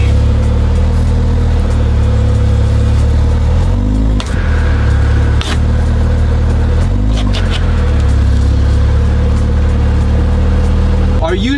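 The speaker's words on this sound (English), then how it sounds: "We're gonna try to move the car." Car engine idling and revving as the car is moved off a soda bottle, a steady low hum with two brief rising revs and a few clicks, loud and close.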